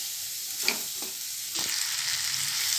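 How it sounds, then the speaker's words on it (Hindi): Cabbage, capsicum, carrot and green beans being stir-fried in a pan, a constant soft sizzle with a few brief stirring scrapes, close and without talk. "पत्ता गोभी, शिमला मिर्च, गाजर, ग्रीन बीन्स और सभी को अच्छे से हमें भून लेना है मिलाते हुए।"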